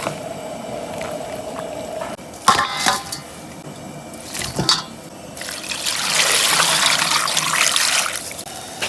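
Running water from a tap splashes over blanched beef tendon being rinsed, a close trickle broken by a few louder splashes and clatters, then a steady rushing stream near the end.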